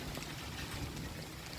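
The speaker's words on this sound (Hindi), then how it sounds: "बारिश स्टार्ट हो गई है" Rain begins falling in Shimla as a faint, even hiss that holds steady for a moment, with no voices over it.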